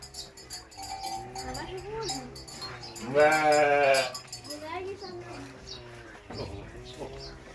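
Sheep bleat and birds coo and chirp at a village farm beside a forest, with one loud, wavering bleat standing out midway over a steady background of calls, while a person talks nearby.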